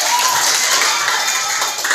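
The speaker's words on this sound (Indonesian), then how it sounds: "Tepuk tangan semuanya" Classroom group applause after a lesson's closing summary, a steady, dense wash of many hands clapping together at a fairly loud level.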